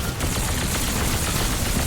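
Sustained automatic gunfire is aimed at the armored Mastermind boss in Crysis 3 Remastered, a loud, dense, continuous burst of rapid shots filling the whole stretch without pause.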